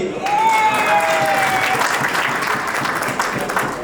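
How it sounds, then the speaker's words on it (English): Audience applause at a 25th anniversary celebration, loud sustained clapping from a large crowd that carries on steadily throughout, with a brief voice or tone heard early. "Please give a big round of applause for Atiya Siddiqui."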